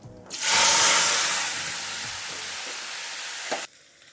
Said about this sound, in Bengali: তেলটা বেশ গরম হয়ে গেছে, দিয়ে দিচ্ছি কালো জিরা।